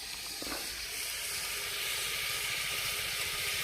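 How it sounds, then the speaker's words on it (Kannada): Ingredients for paneer pulao fry in a pan in an outdoor village cooking setting, giving a steady, loud hiss and sizzle that holds evenly throughout with no talking. "ಈಗ ಇದನ್ನೆಲ್ಲ ಒಂದ್ಸರಿ ಚೆನ್ನಾಗಿ ಫ್ರೈ ಮಾಡ್ಕೋಬೇಕು"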